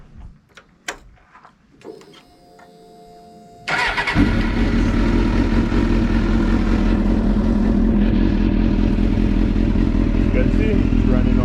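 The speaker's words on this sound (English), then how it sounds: "let me show you guys a startup with the, should be a cold start, with the UA4C ECU" A sportbike fitted with a standalone UA4C ECU is cold started: a few clicks and cranking, then the engine catches around four seconds in and settles into a loud, steady, close idle.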